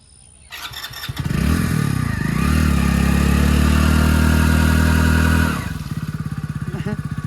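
A motorcycle engine cranks and catches, then runs loud and close with a steady rising roar before dropping back to a lower, pulsing idle.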